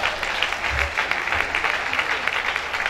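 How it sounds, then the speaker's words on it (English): A crowd claps in applause at a company summit, giving a dense, steady, fairly loud round of clapping with a few faint voices underneath. "Gentlemen and ladies, can we give them a round of applause?"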